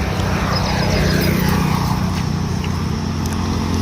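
An Ashok Leyland Dost Plus light truck's engine makes a loud, close, steady drone with a low rumble, unbroken for a few seconds, and nobody speaks.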